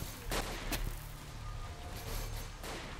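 Several sharp gunshots crack out in S.T.A.L.K.E.R. Call of Pripyat, a few separate reports spread over a few seconds against a steady low ambient rumble, with no talking.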